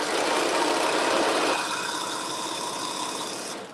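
A sewing machine stitches two back pieces of a garment together, a fast steady whir that drops to a softer, lighter hum halfway through, with no talking.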